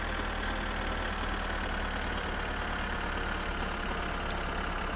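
A tractor engine idling in the video game My Summer Car, a steady, droning mechanical hum with a constant low rumble that holds without change throughout.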